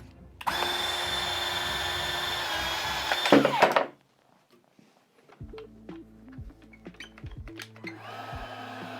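A Ryobi power tool runs loud and steady for about three seconds, then winds down and stops; quieter clicks and handling noises follow.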